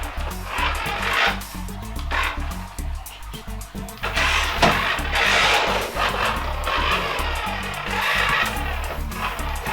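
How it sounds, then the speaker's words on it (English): A Rastar 1/14-scale RC Ferrari 458 toy car drives around, its small electric motor whirring in repeated bursts as it speeds up and slows, with light rolling and scuffing noises close by. "a look at the vehicle driving around so you can see it working"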